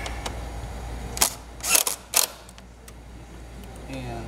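A 10 mm bolt is tightened with a ratchet during a catch can install on a 2018 Ford F-150, heard as a few close clicking and ratcheting bursts over a low steady background hum.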